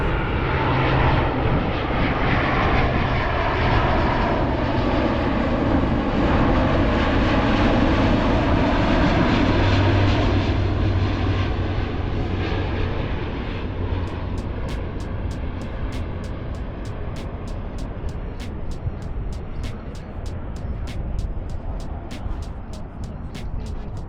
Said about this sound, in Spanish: Y aquí estamos en el aeropuerto. Hoy van a aterrizar los aviones por este lado.